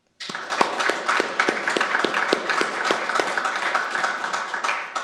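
A steady round of applause from an audience honoring a retiring mayor at a State of the City address, with many distinct hand claps sustained across the whole stretch at even loudness.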